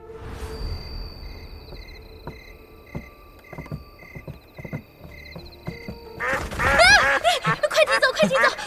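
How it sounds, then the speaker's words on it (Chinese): Several ducks quack by a riverside, a few scattered calls at first over quiet ambience, then a burst of louder, overlapping quacking and honking near the end, fairly close. "直到那天，我在陶艺家门口的河边看见了几只鸭子"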